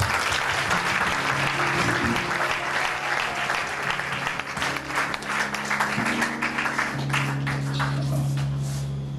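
A church congregation at a deliverance service bursts into sustained, dense applause that fills the whole stretch, steady and loud with a few voices rising through the clapping.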